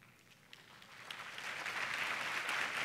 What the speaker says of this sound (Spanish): No tocaba aplauso todavía